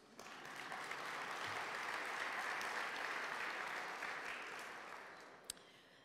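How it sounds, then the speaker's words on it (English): Reception audience applauding at Fair Park, a smooth wash of many hands that swells, holds and then tapers off, with one sharp clap near the end. "Applause, please."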